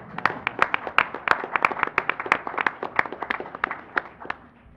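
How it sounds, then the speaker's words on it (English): Attendees at a transit board of trustees meeting clap together, a moderate round of distinct, fairly close hand claps that stays steady for several seconds without talk. "let's clap so he can hear it"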